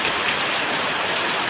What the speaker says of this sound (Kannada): ಇವಾಗ ಮಳೆ ಬರ್ತಾ ಉಂಟು